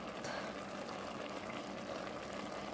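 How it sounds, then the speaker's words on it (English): Turkey pie filling simmers under a lid in a pot, a steady, faint bubbling hiss that runs unbroken throughout. "Put the lid on and let it simmer for 1 to 2 minutes."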